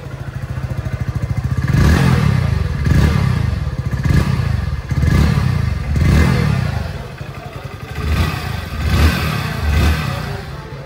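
Hero Splendor Xtec 2024 motorcycle with a horizontal engine idles and revs close by, a steady throbbing thump rising into several rhythmic surges of revving across the stretch, no talk over it.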